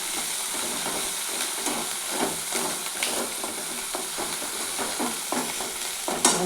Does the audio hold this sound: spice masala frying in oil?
yes